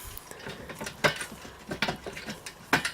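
A bolt is turned with a metal bar while assembling an IKEA Melltorp table, producing close, irregular metallic clicks and ratcheting ticks that come in a few louder bursts over quiet pauses.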